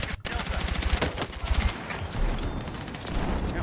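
Dense automatic gunfire in a shooter video game, rapid overlapping bursts that fill the whole stretch, loud and close, with a person talking underneath.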